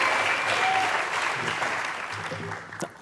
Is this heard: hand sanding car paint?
no